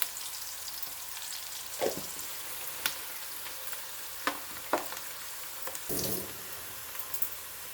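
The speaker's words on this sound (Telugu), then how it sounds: "సో ఉల్లిపాయల్ని వేయించుకోవాలండి దూరగా." Onions fry in a pan with turmeric, giving a steady soft sizzle punctuated by occasional sharper pops and stirring scrapes, close and fairly quiet.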